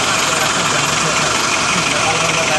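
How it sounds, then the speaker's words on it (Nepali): A bus engine runs in a loud, steady drone heard from inside the bus, travelling on the road to Pokhara. "हामी यो बसमा ढुक्क साथ आरामदायक पूर्वक गइरहेछौँ"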